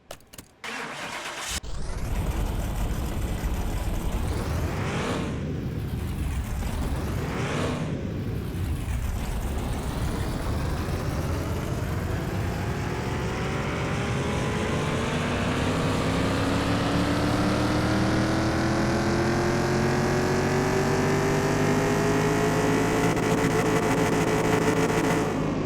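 A car engine in Car Mechanic Simulator 2021 starts and then revs on a dyno, with a few rising and falling blips followed by a long steady climb in pitch that holds loud to the end, with no talking.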